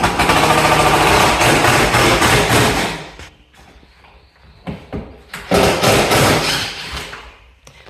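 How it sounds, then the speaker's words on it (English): Loud power drill backing screws out of cabinetry during a kitchen tear-out in a 2008 single-wide mobile home, a dense mechanical roar for about three seconds, then scattered knocks and another sustained burst. "So Tim got the drill and he's taking the screws out, and we'll get this pulled out as well."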